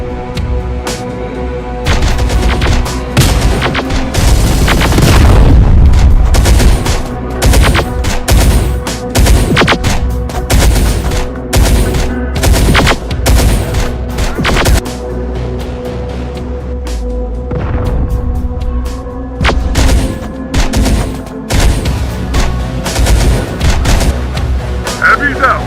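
Gunfire in the Terminator: Dark Fate – Defiance combat game, with loud, close, repeated rifle bursts and booming impacts packed throughout, with frequent brief gaps and a heavier volley near the start.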